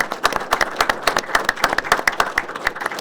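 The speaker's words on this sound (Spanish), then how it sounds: "les pido por favor que lo recibamos con un fuerte aplauso" A small audience at a panel discussion commemorating 40 years since the Malvinas war claps in a sparse, uneven rhythm, with distinct individual claps audible throughout.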